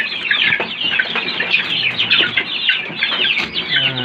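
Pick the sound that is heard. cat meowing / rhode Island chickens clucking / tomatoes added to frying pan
rhode Island chickens clucking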